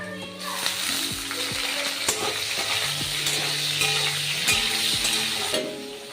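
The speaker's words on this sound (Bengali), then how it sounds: "আলুগুলো ভাজছি, আলুগুলো ভেজে নেবো। আমি চিংড়ি মাছগুলো ভেজে নেবো।" Potato pieces and shrimp with a little turmeric fried together in a pan, a steady close sizzle with occasional stirring scrapes and clinks throughout.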